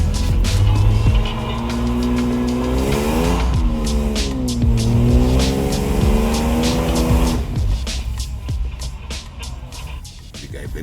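A 4x4 engine labouring in second gear up a rocky mountain trail in North West South Africa, loud and close, its revs rising and dipping repeatedly, with scrabbling and knocks before easing toward the end.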